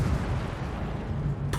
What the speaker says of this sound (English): Just a fun little explosion, start the morning.